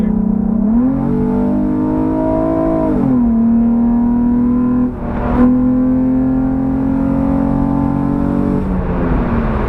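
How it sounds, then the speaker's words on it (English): An Infiniti G35 engine revs up and settles into a steady, loud intake drone, with a brief whoosh midway and another rise in revs near the end. "makes that intake sound a hell of a lot better"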